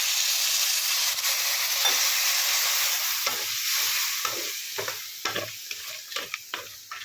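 Pork masala sizzles and hisses loudly in a pan as a cup of water is poured in, the steady frying noise easing into bubbling with scattered stirring scrapes toward the end; no one speaks.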